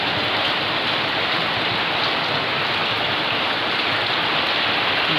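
Heavy rain pours down steadily, a dense, loud hiss with no pauses.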